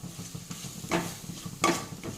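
Egg and potato curry masala frying in a pan while being stirred, with a soft continuous sizzle, light scraping strokes and two louder clattering scrapes of the spoon against the pan.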